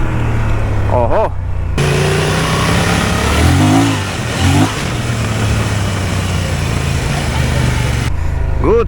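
A Honda Transalp 750 motorcycle engine revs hard and steadily while its rear wheel spins climbing an off-road hill, loud and close throughout, with a brief voice near the start and a rough surging in the middle.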